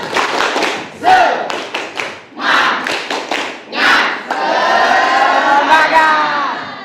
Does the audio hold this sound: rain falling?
no